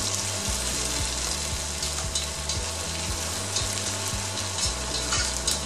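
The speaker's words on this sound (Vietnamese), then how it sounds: "Mình xào trên nồi chống dính." Potatoes stir-fried with onion, garlic and butter in a non-stick pot give a close, continuous sizzle, with repeated low knocks of stirring against the pot.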